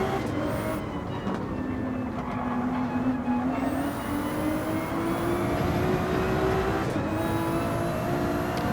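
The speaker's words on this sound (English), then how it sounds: "He's got that very rapid Ferrari of Thomas bearing down on him" Ferrari race car engine in a sim racing game league race, a steady loud whine climbing slowly in pitch through the gears, with other cars passing close and brief higher engine notes overlapping throughout.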